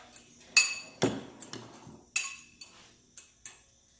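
A utensil stirring pork in a cooking pot gives a quiet series of sharp, irregular metallic clinks and taps against the pot, close by, with no talk.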